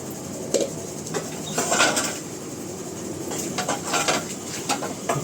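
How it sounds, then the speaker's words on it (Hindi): Dishes being washed by hand, scattered clinks and clatters of utensils and pots with running water, close and irregular. "मैं इसी तरीके से यहाँ पे अभी फ़िलहाल बर्तन सब धो रही हूँ"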